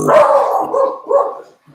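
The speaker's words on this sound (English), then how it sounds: "Here go the dogs. They're going crazy." Dogs bark in a quick burst of three or four loud, close yaps, with a short gap before a final yip at the end.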